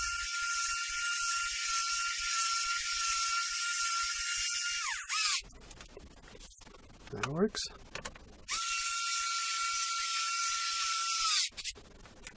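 A Hyper Tough electric screwdriver whines steadily and close while driving a screw, stops briefly as a person speaks, then whirs again at a similar pitch.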